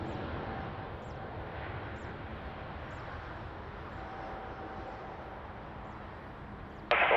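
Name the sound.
aircraft landing at Lisbon Airport runway 20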